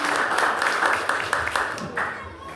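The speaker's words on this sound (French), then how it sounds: "Nous avons demandé pour nous applaudir l'équipe Bernard" Applause from an audience for a school quiz team at a college culture and knowledge contest, a dense steady patter of clapping with a few sharper claps standing out, fading slightly toward the end.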